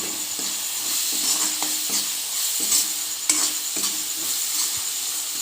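A spoon stirs Assamese chicken curry with coriander powder in a pan, giving repeated scraping strokes over a steady bright sizzle from the frying.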